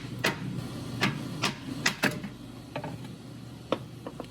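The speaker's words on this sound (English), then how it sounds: "Take our little mallet, kind of work it out" A small mallet taps at a Jeep front driveshaft to work it loose, giving a string of sharp, irregular metallic knocks at close range, some louder and some lighter, spaced apart with brief quiet gaps.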